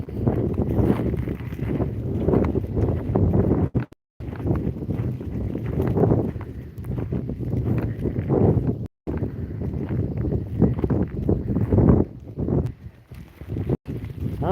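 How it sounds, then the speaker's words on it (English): Gusty outdoor wind buffets the microphone in a sheep pasture, a steady low roar with brief drops and a faint voice in the background. "Well, it's windy."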